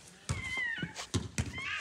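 A cat meows several times close by, short rising calls separated by soft thumps, at a quiet level with no talk.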